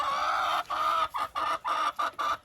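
Hens cluck close by in a snowy yard in light frost while pecking at snow, a continuous run of throaty clucks broken by short regular pauses, with no talking.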